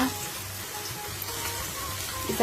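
Onion kachri, thin flat onion fritters from Mithila, fry in hot oil with a continuous dense sizzle and fine crackle, close and even, with no voices over it.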